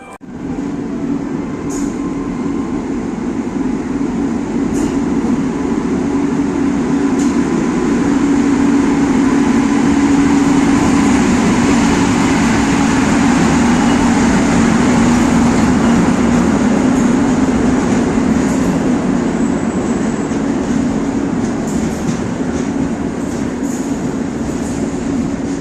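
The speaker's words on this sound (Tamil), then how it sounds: "ஸோ வண்டி வர ஷார்ட்ஸை பார்த்துருவோம்" Mumbai Express passenger train pulling into a station, a loud steady rumble and rolling roar of carriages that holds for the whole stretch, with faint clicks and squeals above the drone and no talk.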